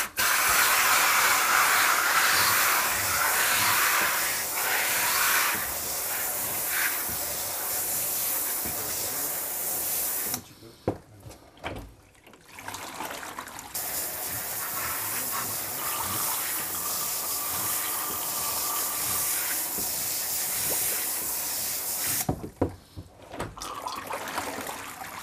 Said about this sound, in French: Donc on va rincer le cyanotype avec de l'eau